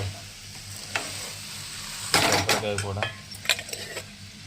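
Ivy gourd tossed with coconut in a pan for an Andhra-style fry: a soft sizzle broken by several loud bursts of spatula scraping and clinking near the middle and end.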